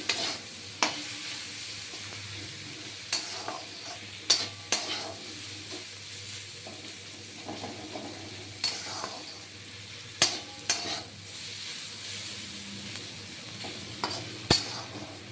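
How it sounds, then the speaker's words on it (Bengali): Oats and vegetables fry in a pan with a low, continuous sizzle. A spoon scrapes and knocks against the metal at irregular intervals, with sharp clinks standing out close by and no talking. "ওটসটা ভাজা হয়ে গেলে একটু ভেজে নিয়ে নেড়ে চেড়ে"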